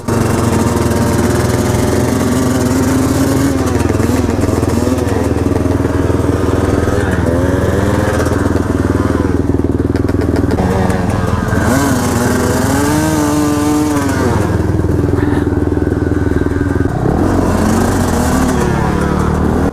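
A 2018 KTM 300 dirt bike engine runs loud and near at an enduro hare scramble race, its two-stroke drone rising and falling with revs throughout, with faint voices beneath.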